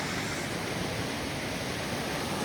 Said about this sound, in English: And a little waterfall up there.